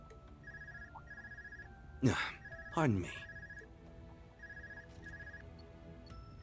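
An in-game flip phone rings in Trails of Cold Steel IV, a repeating electronic ring pattern carrying steadily in the background while a voice speaks over it briefly in the middle.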